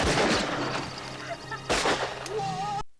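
Loud gunfire bursts from a film soundtrack, a heavy volley opening and another sharp burst midway, with music and effects around them before an abrupt cut to silence.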